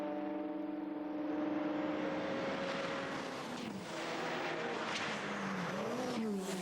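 Alan McNish's Le Mans prototype at the 2000 Le Mans 24 Hours, engine howling at speed with rising and falling pitch through gear changes, loud and continuous with a faint whistle underneath.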